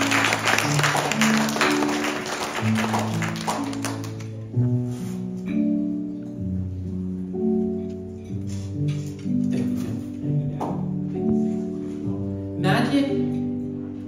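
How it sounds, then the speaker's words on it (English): A party crowd claps loudly for the hosts at an event with a magician for about four seconds, then the clapping thins out and music takes over. "Let's give them both a big round of applause."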